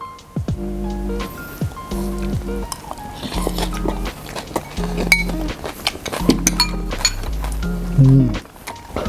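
Glasses clinking in a toast over a meal of ensaladang baboy, pork ceviche, several bright clinks and light tableware clatter among background music.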